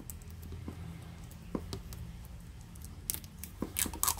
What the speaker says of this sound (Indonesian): Sekarang kita langsung buka aja dalamnya.